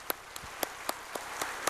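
A church congregation welcomes a first-time visitor at a Sunday New Year service with a few faint, evenly spaced claps, sparse and fairly distant rather than a full burst of applause.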